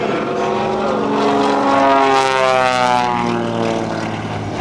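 A propeller airplane's engine drones loudly during an air show aerobatic routine, its pitch sliding and shifting through rolls and knife-edge flight.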